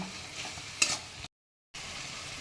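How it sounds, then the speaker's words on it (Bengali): Turmeric, coriander-cumin powder and Kashmiri red chilli stir-fried with tomato for chicken liver kasha, a steady close sizzle with scraping stirs, one sharper clatter, then a brief gap before the frying resumes. "দিয়ে এবারে ভালো করে আমি কষিয়ে নেব"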